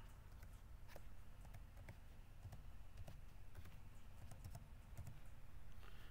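Password being typed on a computer keyboard during an Ubuntu Server 22.04 install, a run of quiet, irregular key clicks over faint background hum.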